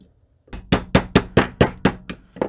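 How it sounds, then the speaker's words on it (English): A hammer taps a metal pin seven times in a quick, even rhythm, each strike sharp and ringing, close up with no voices. "We're just going to give it a little tap."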